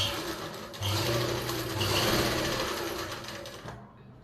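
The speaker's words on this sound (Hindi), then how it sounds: "तो मैं ये सिलाई लगा लेती हूँ।" A sewing machine stitches the lining of palazzo pants, running in a steady mechanical whir with a brief speed change early on, close and loud, then stopping abruptly near the end.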